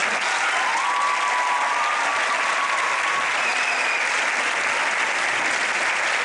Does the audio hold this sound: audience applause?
yes